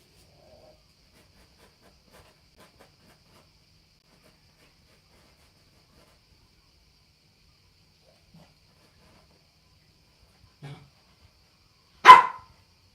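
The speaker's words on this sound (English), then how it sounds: "sorry about my dog barking." A single dog bark sounds near the end of a nearly silent stretch near a painting studio, preceded by a faint short thump, with no talking.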